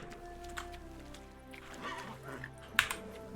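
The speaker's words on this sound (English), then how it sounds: "I can't make the horse move." Horse hooves from The Witcher 3: Wild Hunt as a horse stuck in a puddle fails to move, soft scattered hoof steps and shuffles over a steady game music bed, with one sharper clop near the end.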